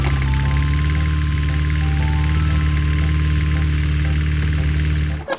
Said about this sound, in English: I think we should mow the lawn.